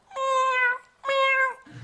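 A cat gives two clear, drawn-out meows in quick succession, close and fairly loud, with a short gap between them.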